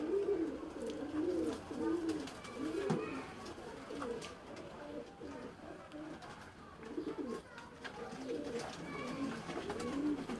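Pigeons coo repeatedly in soft, rolling phrases, several birds overlapping close by, with a steady low murmur throughout.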